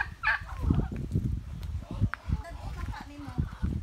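Turkeys gobble and cluck nearby in short bursts while people talk over them, with a few thuds and rustles in the background.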